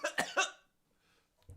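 A voice imitating coughing during a tabletop role-playing session: three quick, close cough bursts, then near silence and a faint low rustle at the end.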